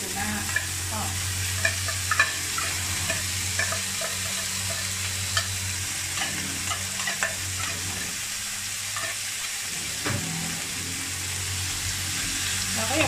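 Shrimp paste rice is stir-fried with canned tuna in a pan, giving a continuous close sizzle broken by scraping spatula strokes and clinks. A low steady hum sits underneath and no one speaks.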